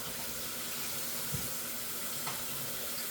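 Canned garbanzo beans are rinsed under a running kitchen faucet. A steady, close hiss of flowing water fills the whole stretch, with a couple of faint knocks.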